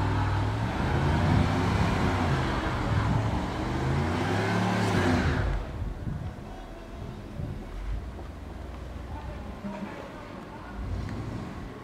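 A small truck's engine roars and strains as it tries to push through deep snow during a Chicago blizzard, heard as a steady loud rumble mixed with wind noise that eases partway through.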